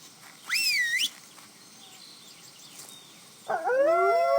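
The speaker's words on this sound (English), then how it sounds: "Kyle the frenzied howls in delight at the sight of his lunch" Kyle the frenzied, a wolf in World of Warcraft: Burning Crusade, lets out two loud, rising and wavering howls, a short one early and a longer multi-toned one at the end, with a quiet pause between them.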